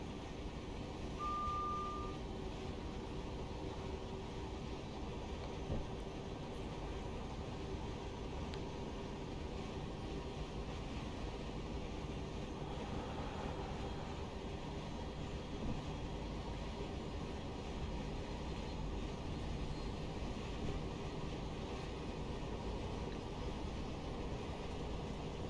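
A Class 707 electric multiple unit in Train Simulator Classic runs at speed between London Victoria and Brighton, giving a steady, continuous rumble and hum with an even wheel-and-motor drone that stays constant throughout, with no talking.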